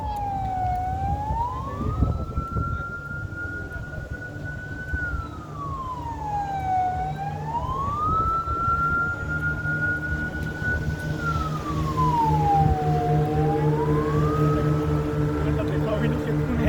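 An emergency siren wails in slow rising and falling sweeps, loud and steady, over a low bed of traffic noise.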